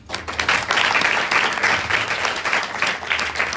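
A crowd claps steadily for several seconds, a dense, even applause that holds at a fairly loud level throughout.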